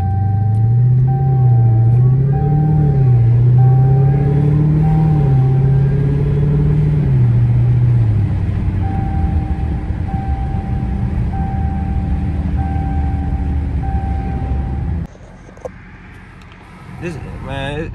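A Dodge Hellcat's engine rumbles low and steady inside the cabin while driving, a deep drone that shifts in pitch for the first half. Then a sustained hum with faint beeping tones continues before the sound drops abruptly near the end.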